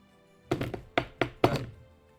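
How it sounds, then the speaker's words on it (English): Four knocks on a wooden door, two quick ones followed by two more, each a solid, close thunk with a short decay, heard alone against quiet. "You knock on the door."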